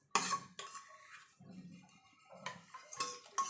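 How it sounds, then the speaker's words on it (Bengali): A metal spoon clinks and scrapes against a pot as rice is stirred into boiling milk for payesh, several distinct knocks in an irregular rhythm, close and moderately quiet with no talking. "আর চালটা দিয়ে কিন্তু একভাবে নাড়তে হবে, না হলে কিন্তু চালগুলো সব দলা পেকে যাবে।"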